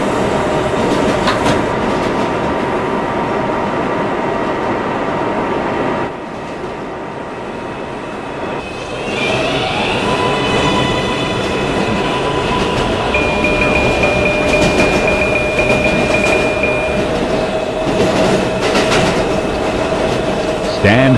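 A 7 local subway train bound for Kennedy–Main Street runs steadily with a continuous rumble and wheel clatter, brief dip midway, then a sustained squealing whine; no talk over it.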